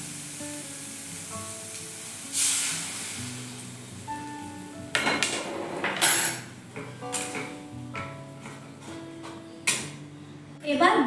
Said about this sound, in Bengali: এবার দিয়ে দিচ্ছি পরিমাণ মতো জল।